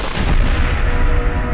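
Booming gunfire in the video game Fallout 4, a heavy low blast with a rumbling tail that fills the short moment, loud and close with no voice over it.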